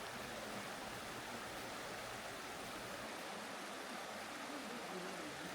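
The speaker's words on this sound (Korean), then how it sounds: "한쪽은 시원하게 물이 흐르고" Mountain stream flowing beside a forest trail, a steady broadband rush of running water that stays continuous and fairly even throughout, with no voices.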